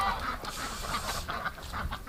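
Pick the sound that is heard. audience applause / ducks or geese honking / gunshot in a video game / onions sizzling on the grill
ducks or geese honking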